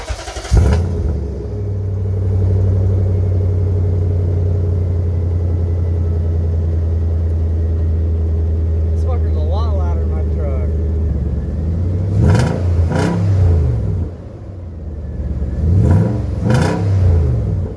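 A Nissan Titan pickup truck engine with a new aftermarket exhaust cranks and starts, settles into a deep, throaty idle, then gets revved sharply a few times near the end.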